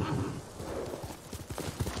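Horse hooves clip-clop in a steady rhythm from a mount named Sora in the samurai video game Ghost of Tsushima, close and fairly loud with a faint whinny, no talk over it.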